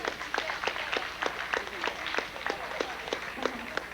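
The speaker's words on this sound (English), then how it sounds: "I'd like you to give yourself a round of applause to kind of warm up this gymnasium" A small audience applauds in a school gymnasium at a college youth symposium, sparse individual claps ringing out in an uneven, moderately loud patter.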